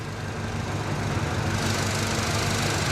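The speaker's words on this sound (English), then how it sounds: "This is a 455 out of a 71 Riviera. So it's a good engine." A Buick 455 V8 from a 1971 Riviera, fitted with EFI in a 1968 Buick Electra 225, idles steadily and smoothly with a close, even rumble and no talk.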